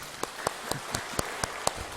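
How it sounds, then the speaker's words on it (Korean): Congregation at a church children's Sunday service clapping for the church school children, heard as a sparse, steady series of sharp claps at an even beat, fairly close, with no talk. "교회학교 어린이들을 위해서 박수 한번 칠까요"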